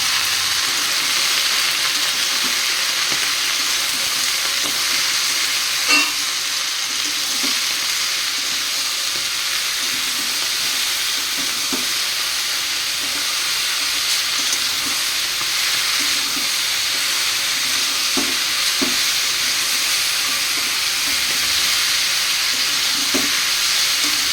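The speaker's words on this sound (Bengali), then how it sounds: "এখানে কুমড়ো আর আলুটা আমি ভেজে নিচ্ছি, আর দিয়ে দিয়েছি 5 ফোড়ন" Pumpkin and potato frying in oil with five-spice, later joined by Malabar spinach, salt and turmeric, make a long, steady, even sizzle in the pan with occasional faint scrapes and no talk.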